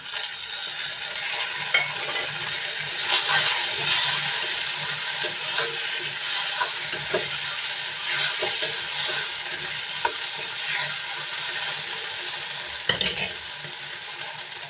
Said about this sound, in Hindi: अब मैंने ये लहसुन जीरा और हरी मिर्च का ये पेस्ट बनाया था तो इसको भी डाल देंगे